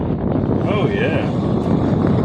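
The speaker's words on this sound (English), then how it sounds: "Yeah, that is moving some serious air." A Vintage Air under-dash air conditioner blows air during its first test in a vehicle, a loud, steady broadband whoosh like wind, with a voice speaking briefly over it.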